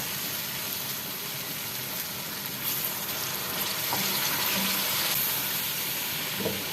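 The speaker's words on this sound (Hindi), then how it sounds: "अब हम इसमें जो है थोड़ा सा पानी ऐड कर देते हैं पहले।" Water added to a pan of chicken paneer handi sizzles with a steady, soft hiss and crackle, close and moderate, with faint kitchen clatter and no talking.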